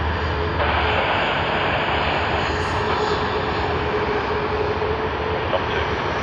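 A Jetstar jet airliner takes off at Sydney Airport, its engines giving a steady, broad roar that holds loud and even throughout without a break.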